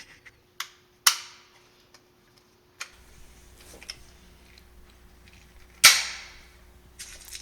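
A Daisy 717 air pistol, a target gun in need of new seals, fired at a target at 10 meters with lead pellets: two sharp close cracks with lighter clicks of handling between them.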